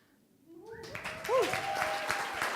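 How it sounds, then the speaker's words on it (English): Audience applause and cheering at a coding bootcamp demo day for an app team, swelling up from near silence into a sustained round of clapping with a whoop rising above it. "I think they deserve some of your attention and maybe a round of applause."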